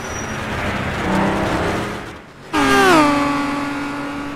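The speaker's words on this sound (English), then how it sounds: "Now we see Tilo Neusch in his Maserati, part of the Maserati Cup down there in the 2-litre series" Maserati race car from the 2-litre Maserati Cup racing at a circuit, engine note building as it approaches, a brief dip, then a loud close rising roar with a clear gear-change pitch sweep as it passes.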